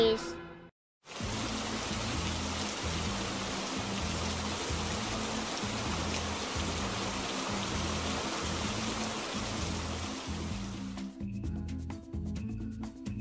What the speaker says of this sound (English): Hooray! The rain is over!